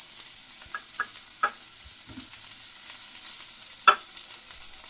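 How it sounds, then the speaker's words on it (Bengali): Masala of chopped tomato, garlic, onion and bay leaf fries quietly in a pan, a soft steady sizzle broken by a few sharp stirring clicks and scrapes. "একটু মশলাটা ভেজে নেব"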